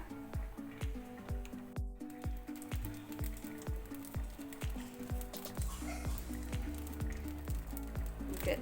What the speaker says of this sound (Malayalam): നമുക്ക് ഈ കശുവണ്ടി പരിപ്പ് മുന്തിരിയും കൂടി നെയ്യിലൊന്ന് വറുത്തെടുക്കാം